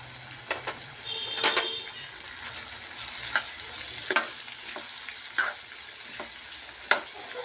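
Mutton curry with meat masala and spices being stirred in a pan, soft sizzling under repeated scraping strokes of a spoon, close and fairly quiet, no speech.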